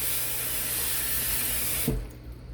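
Tap water runs steadily into a kitchen sink for about two seconds as cauliflower is washed, a loud broadband spray that then cuts off abruptly, leaving a quiet room with faint handling sounds.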